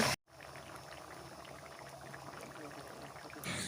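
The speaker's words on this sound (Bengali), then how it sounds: "জল অ্যাড করেছি আর এই দেখো ফুটছে" Ghugni, a spiced pea curry, boils in a pot after water is added, with a close, continuous bubbling hiss that holds steady throughout.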